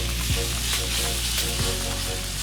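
Pasta for creamy Cajun chicken pasta cooks on a Blackstone griddle, giving a loud, dense, steady sizzle with a couple of quick tossing scrapes close up and no voices.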